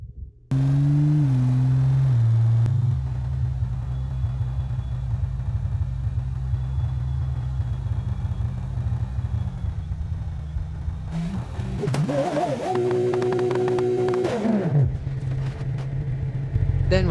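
Car driving in BeamNG Drive, a steady close engine drone that shifts pitch early on, then rises into a louder revving surge with whining tones before settling back to a hum.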